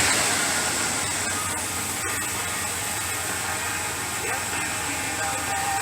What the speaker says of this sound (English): I'm gonna hit the gas and it'll go down to the cold idle or a hot idle